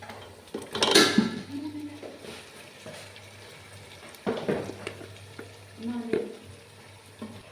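Fried chicken with chicken masala being stirred in a pan for homemade chilli chicken, with scattered scrapes and clatters over a soft sizzle and a faint steady hum, close by and fairly quiet.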